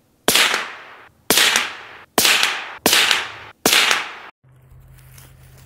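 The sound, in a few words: rifle shot firing CCI Uppercut ammunition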